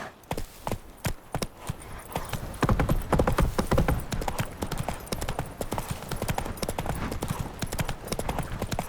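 Roach, a horse in The Witcher 3: Wild Hunt, trotting with loud, close, rhythmic hoof clip-clops that quicken into a steady gait, with faint game ambience underneath.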